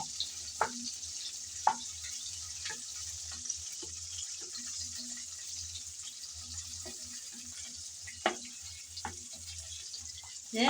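Shrimp sizzle steadily in a hot pan for a shrimp do-pyaza, a dense continuous hiss broken by a few sharp spatters and light utensil knocks, close and alone with no talking.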